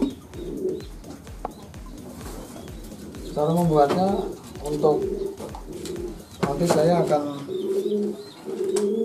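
Pigeons coo in low, throaty repeated bursts close by, mixed with someone talking over them.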